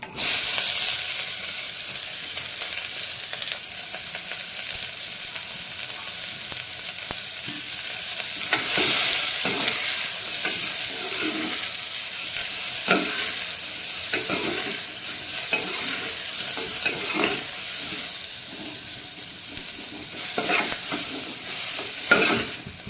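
Onion and green chilli fry in a pan for tomato rice, a loud continuous sizzle with recurring scrapes and knocks as they are stirred throughout, with no voices.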